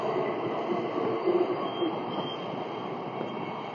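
An approaching train on the T1 line, heading for Penrith, sounds as a steady broadband rail rumble at a suburban station, still distant and holding at an even level with slight swells, with no voices.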